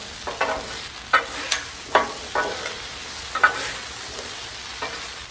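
Potatoes sizzle on a Blackstone griddle set to high, with a steady fry hiss broken by several sharp scraping stirs of a spatula at close range and no talking.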